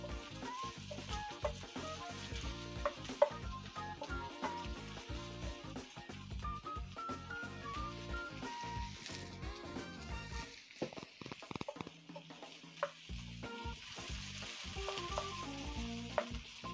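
Mixed vegetables sautéing in butter in a pan, a faint continuous sizzle with light crackles, heard quietly and steadily without talk.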